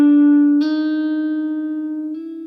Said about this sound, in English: So much more expression when you can bend a note